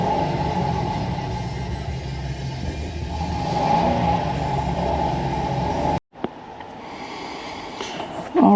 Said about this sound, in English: A couple of nice little revs.